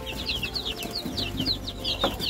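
Newly hatched chicks in a box peep constantly, with many high, quick chirps close by over low background rustling and a faint hum.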